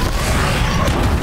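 A grenade exploding in the video game Horizon Zero Dawn, a single close, heavy boom with a rough, sustained rumble filling the moment.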